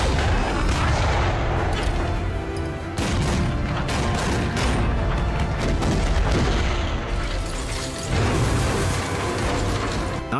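Artillery shells pounding in a wartime bombardment, a dense, continuous roar of overlapping blasts and rumbling impacts, loud and unbroken throughout.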